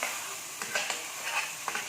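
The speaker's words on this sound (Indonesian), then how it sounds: "Bawang putih kita masak, tumis. Kita tumiskan ya." Blended garlic sautés in a pan for semur ayam kampung, giving a soft, steady sizzle broken by several quick stirring scrapes, close and without talk.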